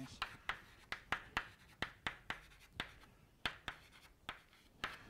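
Chalk tapping and scraping on a board during a physics lecture on quantum chaos: about twenty sharp, distinct strokes in irregular rhythm, close and clear over a quiet room.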